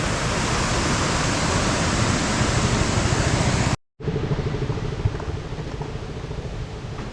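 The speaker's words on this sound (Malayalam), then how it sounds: "വെള്ളം വരുന്ന നോക്കിയേ" Water pours down at Vadattupara in a dense, loud, steady rush that breaks off for an instant before resuming slightly softer.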